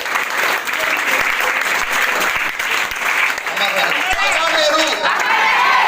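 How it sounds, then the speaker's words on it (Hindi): Loud, sustained applause from an audience of students at a Children's Day gathering in a coaching centre, dense clapping filling the whole stretch with voices mixed in. "ताली हो जाए इनके लिए"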